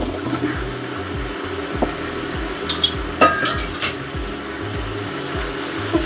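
Chicken meat curry being stir-fried in a pan, with steady sizzling and repeated scraping and stirring strokes, close and continuous with no talk.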